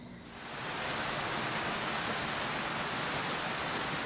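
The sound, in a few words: heavy rain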